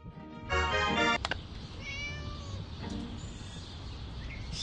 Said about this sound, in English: Shut up, you silly cat.